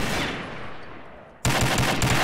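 Rapid bursts of automatic gunfire in the video game Combat Arms, loud and dense, with a sharper, closer volley in the final second.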